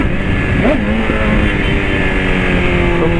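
A motorcycle riding through traffic gives a steady, loud engine drone with a rising rev partway through, heard close and continuous over busy road noise.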